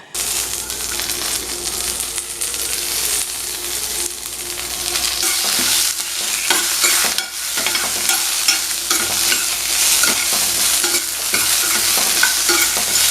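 A spoon scrapes and stirs karpooravalli leaves, dried red chillies and tamarind frying in a pan for a thuvayal chutney, with a steady close sizzle and repeated scraping strokes throughout, no voices.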